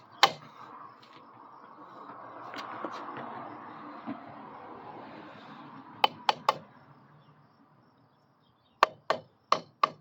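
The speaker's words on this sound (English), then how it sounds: "If we got it there, then we'll slowly tap that piston in." Tapping a piston through a ring compressor into a 212 Hemi engine block, heard as a close series of sharp, hollow knocks: a pair near the middle and a quick run of four at the end, over a low steady hum.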